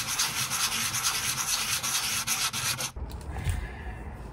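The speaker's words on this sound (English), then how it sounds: "you guessed it, more sanding." Steady, rasping sanding strokes scrub back and forth up close on a resin armour piece, then stop abruptly, leaving a low muffled rumble.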